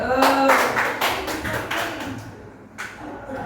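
A small classroom group gives a short burst of scattered hand claps for a student who has just presented, the claps uneven and close, fading after a couple of seconds with one last clap near the end.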